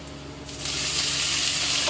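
Pumpkin greens dropped into hot oil with fried garlic and green chilli, a sudden loud sizzle that surges midway and keeps crackling steadily up close.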